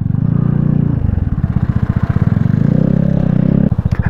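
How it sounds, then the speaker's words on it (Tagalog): A Vespa Sprint 150 scooter, close and loud, its engine chugging in a rapid low pulsing beat that shifts pitch as it accelerates and slows, with a brief rattle near the end. "First time ko magda-drive through ng scooter ang gamit."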